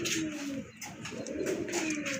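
Pigeons, Rajgolla breed, cooing in a close, steady run of soft low coos with a few faint chirps, no talk.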